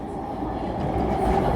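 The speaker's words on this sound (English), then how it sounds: "another C train." An MTR C-train pulls into the platform at Yau Tong station in Hong Kong, its rumbling wheels and rolling clatter growing steadily louder as it arrives, with no speech over it.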